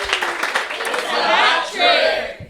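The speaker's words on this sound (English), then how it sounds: "give her a round of applause" A live audience breaks into applause and cheering, a dense wash of clapping that swells in the middle and fades near the end, with some voices mixed in.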